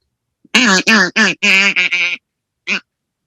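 A series of loud, nasal quacking calls in quick succession, then a pause and one final quack, imitated by a human voice.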